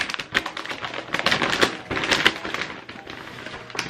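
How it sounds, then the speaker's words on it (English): Packaged joggers being pulled from plastic wrapping, with continuous crinkly rustling and sharp crackling bursts close to the microphone, no talking. "So let's go and unwrap these."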